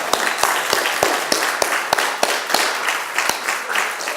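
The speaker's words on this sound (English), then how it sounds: "Mustafa another round of applause." Guests at a university alumni association scholarship banquet clapping for Dr. Mustafa, sharp individual claps landing in a steady, even rhythm over a softer background of applause, fairly close.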